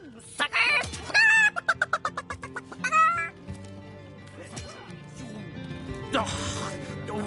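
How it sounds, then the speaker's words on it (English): A chicken in the Divinity: Original Sin video game clucks in a rapid series of squawks, with game voices talking around it. "Why did you let my chicken escape?"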